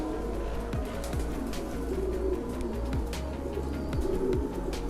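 A restless pigeon, shown as one of Bangladesh's priciest birds, coos repeatedly in soft low throaty pulses close by, with faint bird chirps and background noise and no talking.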